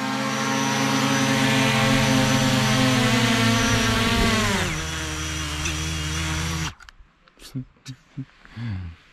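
A drone on a Nepal trek gives a steady, high-pitched motor whine with strong harmonic tones, humming loudly, then drops in pitch and cuts off, followed by scattered short knocks and rustles.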